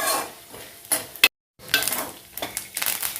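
Onions frying in a pan give off a sizzle that mixes with the scrape and clink of stirring against the cookware. The bursts come in short, close bursts, broken once by a moment of silence.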